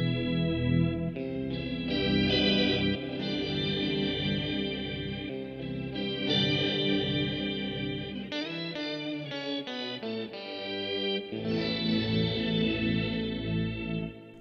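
Electric guitar played through a Walrus Audio Luminary octave pedal set to a slow attack with added reverb: sustained, swelling chords ring continuously and loud, with a dreamy, washed-out tail and no voices.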